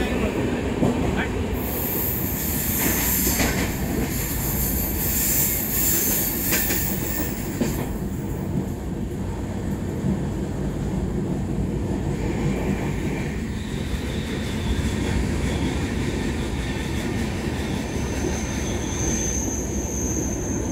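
A train rolls into Kalyan station, wheels squealing and carriages rumbling loudly and steadily throughout, with high-pitched wheel screech early on and a faint whistle-like tone toward the end.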